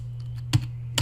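A computer keyboard is used to type an IPython command on a CentOS 7 machine. A few crisp key clicks sound close up over a faint steady hum, with a sharper double tap midway and another at the end, and no speech.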